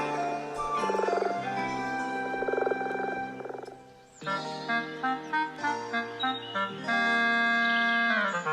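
Several frogs croaking by a pond, loud close pulsing calls in overlapping repeated bursts with a clear rhythmic pattern, no talking.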